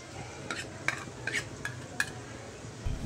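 Ginger, garlic, onion and cinnamon pastes fry in oil in a pan, a soft sizzle beneath a handful of sharp scraping clicks from a spoon stirring against the metal, quiet and close.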